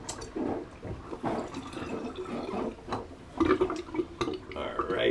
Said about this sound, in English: I'm just going to evacuate the sink because there are some whiskers are floating